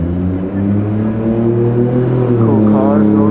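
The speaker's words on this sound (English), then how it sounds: "Cool cars going through." Cars drive past on a busy street in Akihabara with a steady, close engine drone and a brief rising rev near the end, while someone talks over the traffic.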